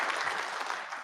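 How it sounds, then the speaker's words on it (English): Brief burst of dense applause from a Conservative Party Conference audience, steady and moderately loud for about a second with no talk over it. "you can applaud that as well"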